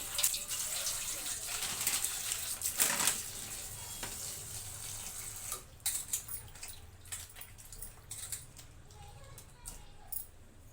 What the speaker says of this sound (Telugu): ఒక 2 సార్లు 3 సార్లు కడిగేసుకుంటే చూసారా మల్లె పువ్వులాగా క్లీన్ అయినాయి కదా.